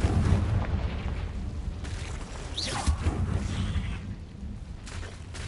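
The Confringo blasting spell explodes in Hogwarts Legacy inside a cave, loud booming bursts layered into a dense, rumbling roar that stays heavy throughout.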